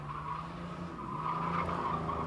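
A Pontiac Bonneville stock car, number 16, runs a qualifying lap at La Crosse Speedway, its engine a steady droning roar heard at a moderate distance, with no break in the sound.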